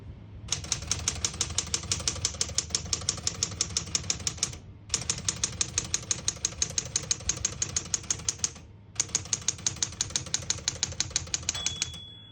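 Steady, rapid clacking of a 1970s Smith-Corona Super Sterling portable manual typewriter in three long bursts separated by brief pauses, close and even, with regular sharper strikes throughout.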